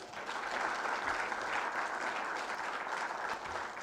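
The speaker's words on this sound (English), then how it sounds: "Let's give final round of applause for all the teams." An audience applauds the competition teams at a live event, a continuous, dense wash of clapping held steadily for several seconds, moderately loud and without speech.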